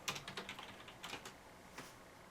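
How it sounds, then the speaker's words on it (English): Quick bursts of computer keyboard keystrokes, faint and somewhat irregular, tapping in short clusters during a lull in a casual podcast conversation. "I'm just typing something to my computer"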